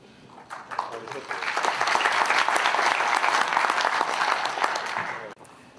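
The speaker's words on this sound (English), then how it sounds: "how about a round of applause for all the panelists this morning?" Audience at a business forum applauding panelists, clapping swelling quickly into sustained applause from a room full of people, then fading and stopping abruptly.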